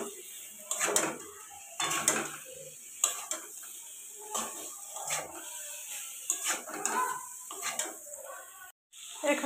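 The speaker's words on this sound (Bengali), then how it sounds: "ভেজে রাখা সয়াবিন আলুটা দিয়ে দিলাম, দিয়ে আর একটু ভালো করে দেখো, এখানে ভালো করে কষে নিচ্ছি আমি" Fried soybean chunks and potatoes are stir-fried in a pan, with a spatula scraping and clattering in irregular bursts over a light sizzle while someone talks throughout.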